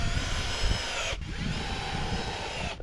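A power drill drives screws into the frame of an archery net, running steadily and close with one brief pause partway through.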